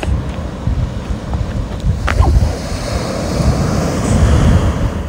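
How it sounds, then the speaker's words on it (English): Sea waves wash steadily onto a beach on Kefalonia, a continuous loud surf roar with wind buffeting the microphone and no voices. "we have came to the sea for a little swim, as you can hear by the waves"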